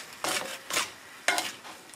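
Pot of beef tips with green beans and corn being shifted and stirred on the stove: three or four short metallic scrapes and clinks, close and moderately quiet, with soft sizzling between them and no talking.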